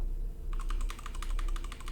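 Rapid clicking keystrokes on a computer keyboard during a Shrek-themed hotel horror game, starting after a brief quiet moment and continuing as a steady, close burst of taps over a low background hum.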